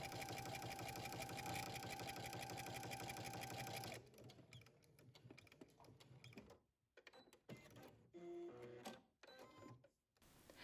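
A sewing machine runs a straight stitch up a skirt seam, a steady fast whirring hum for several seconds, then stopping and restarting in short bursts with quieter gaps.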